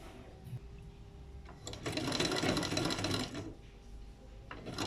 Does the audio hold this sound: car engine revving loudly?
no